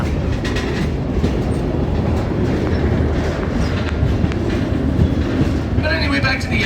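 A tourist train rolls along mountain railway tracks, its cars rumbling steadily with rhythmic clickety-clack and faint wheel squeal, heard close from on board.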